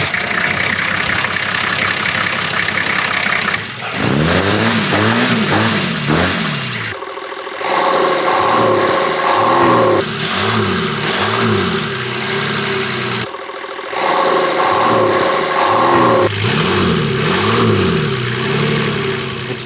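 Car engine revving repeatedly with a homemade perspex intake muffler damping the induction noise, loud and close, rising and falling in several rev sweeps with brief dips between.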